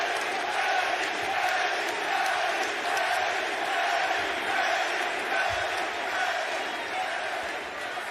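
A wrestling arena crowd at a Ring of Honor match roars and cheers steadily and loudly throughout, a dense continuous wall of fan noise with no break.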